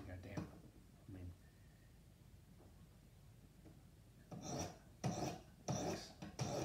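Knife sharpening strokes on a Wicked Edge Go with 200-grit stones, a few soft rasping scrapes, faint at first and then louder strokes near the end, with someone talking in between.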